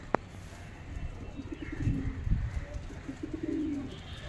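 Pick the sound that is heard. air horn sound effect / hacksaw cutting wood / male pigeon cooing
male pigeon cooing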